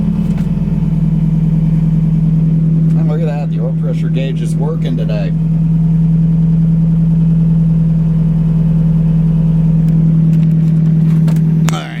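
An SCCA Spec Mazda Miata race car with a Springfield dyno exhaust idles steadily after start-up, a loud, low, even drone held throughout while someone talks over it partway through.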